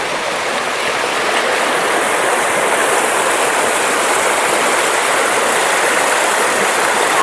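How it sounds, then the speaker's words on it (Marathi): A waterfall pours into a pool in the Konkan during heavy monsoon rain, making a steady, loud, broadband roar of rushing water that runs evenly through the whole stretch with no voices. "हा आपला गवळ्याचा धबधबा"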